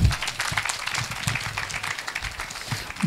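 An audience at a school event claps together in brief, dense applause, fairly close and steady throughout.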